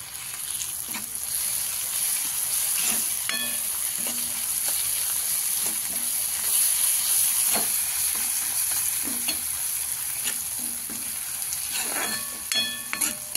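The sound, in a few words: garlic and green chilies sautéing in a pan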